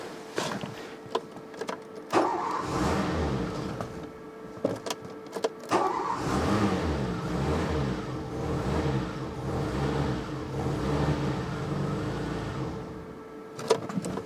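A Renault 25 V6 Turbo engine with a faulty ECU turns over and revs unevenly, failing to idle properly, rising and falling in several bursts, with brief clicks and rattles around it and no talking.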